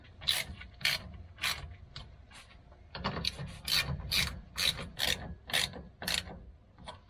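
Hand ratchet tightening bolts on a 2002 GMC Sierra, close crisp clicking in quick repeated bursts, a few strokes then a longer run of regular pulls, no speech.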